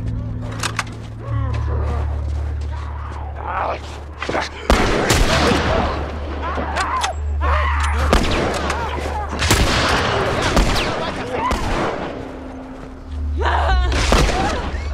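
Gunfire in The Last of Us: several loud, sharp shots ring out in bursts over a low droning background, mixed with game voices and player talk.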